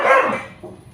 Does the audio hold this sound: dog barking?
yes